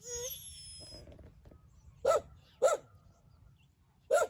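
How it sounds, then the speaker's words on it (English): A dog barks three times, sharp single barks spaced apart at moderate distance, after a brief voice at the start. "Peggy, stop barking."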